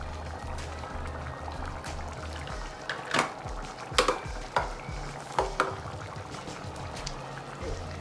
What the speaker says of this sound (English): Now give a quick stir.